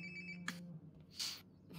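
Phone ringtone in Life is Strange: Before the Storm, heard as short bright bursts of ringing over a steady low hum, moderately faint, with no talk.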